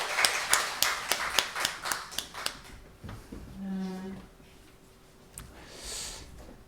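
A church congregation at a Sunday morning service claps in a steady, evenly spaced rhythm of sharp beats, faint and roomy, before the clapping stops and a quieter sustained tone takes over.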